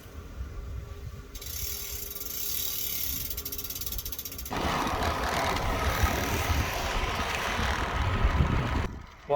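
Ventum NS1 road bike being ridden, a steady whirring mechanical buzz of the freehub and drivetrain, with rising wind and road rush partway through.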